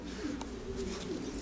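Pigeons coo softly at a racing pigeon loft as birds arrive back, with low, repeated cooing calls over a steady background hum.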